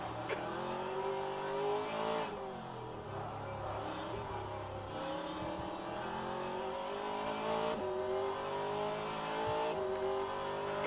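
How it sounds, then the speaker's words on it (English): Race cars in rFactor 2 at Long Beach circuit run close together, engines whining and shifting through gears with rising and falling pitch, a continuous layered roar of several cars near and around. "There's a group of faster cars approaching. They're fighting for position."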